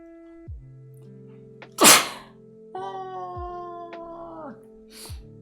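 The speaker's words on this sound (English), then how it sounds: "I'm gonna sneeze." A single loud, explosive sneeze bursts out amid a quiet room with soft tonal background sounds, standing out sharply for a moment.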